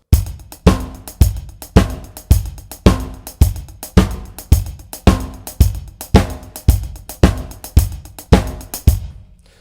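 A drum kit plays a steady groove of 16th-note hi-hats with the kick on every quarter note and the snare on beats 2 and 4, loud and close, repeating evenly for about nine seconds with no talking.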